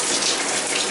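Hot water rushes steadily from a shower tap in an apartment unit during a pressure test, a dense, even hiss with no pauses and no talk.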